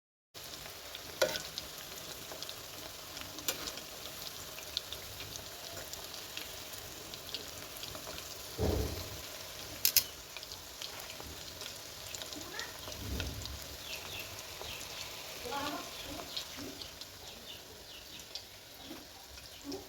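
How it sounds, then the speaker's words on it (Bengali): Cauliflower pakoras deep-frying on low heat until crisp, giving a steady, close hiss and crackle of oil that runs throughout, with occasional louder pops and stirring noises. "এখন এগুলোকে মুচমুচ করে ভাজি করে নিব তো আপনারাও দেখেন এটা শব্দটা একটু শুনেন"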